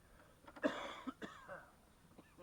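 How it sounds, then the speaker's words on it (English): A few short coughs break out close by, one sharp burst followed by a couple of softer ones, with quiet room sound around them. "Somebody's coughing a lot."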